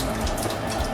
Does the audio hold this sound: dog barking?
no